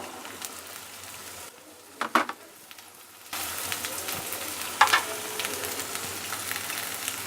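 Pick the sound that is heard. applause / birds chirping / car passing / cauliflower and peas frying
cauliflower and peas frying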